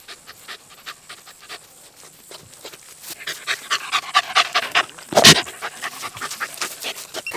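A dog pants rapidly and rhythmically close up, quiet at first and growing louder, with a brief burst of noise midway; hunting for coyotes in West Texas.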